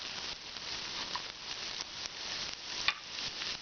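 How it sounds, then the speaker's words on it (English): Onion sautéing in oil in a frying pan, a soft continuous sizzle with faint stirring scrapes and a small clink near the end, close and moderately quiet. "I'm going to start with a little bit of onion. Alright, we can get this sauteing a little bit."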